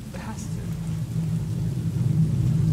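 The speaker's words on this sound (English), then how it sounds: "Ah, still raining, great." Steady rain in the video game Cyberpunk 2077 hisses with a low rumbling undertone, a continuous wash of sound without distinct drops or voices.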